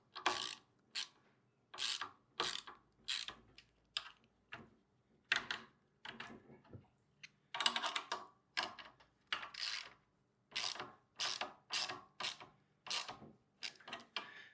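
A hand ratchet clicks in repeated short bursts while tightening down a part on a 2.8 HP 78.5cc gas plate compactor, crisp and close with brief pauses between strokes.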